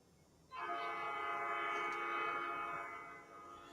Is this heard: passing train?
yes